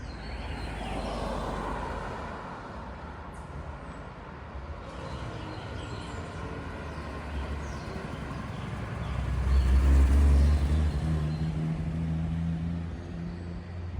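A 1951 Hudson Super Six convertible cruises in third gear with two adults aboard, its engine a steady, low drone with road rumble that swells briefly partway through.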